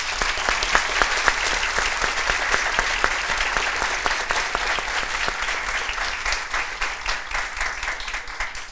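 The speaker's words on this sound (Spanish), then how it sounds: "Y un aplauso para nuestro invitado, por favor." A television studio audience applauds a guest on a Spanish-language talk show, sustained dense clapping close and loud throughout, with no pauses.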